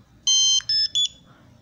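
Bluetooth barcode scanner set to serial port profile mode giving a bright electronic beep sequence after a scan: one longer tone followed by two short beeps, close and clear over faint room noise.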